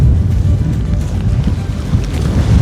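Strong cyclone winds batter the microphone beside the sea at Jaffna, Sri Lanka, a loud continuous low roar with gusting buffets and surf beneath, no speech.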